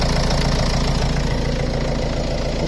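A Nissan Primastar van's engine runs at a steady, close idle by the roadside, a loud continuous low rumble with a rapid rhythmic knock-like pulse and no talking.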